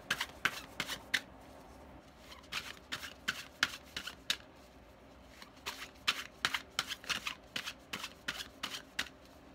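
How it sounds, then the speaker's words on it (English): Textured tarot cards are shuffled up close in quick bursts of soft riffling and flicking, pausing briefly between bursts, quiet and alone. "Just love the sound these make. They have this awesome textury. They're really cool cards."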